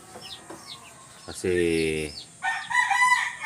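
Nearby roosters crow, with a young bird's rough crow followed by a louder full crow, over a brief spoken word and faint background sounds.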